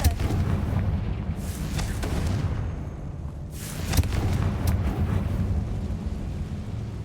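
Explosive blasting spell in a Harry Potter video game, a loud booming burst with rumbling low roar and crackling debris that swells again midway before fading.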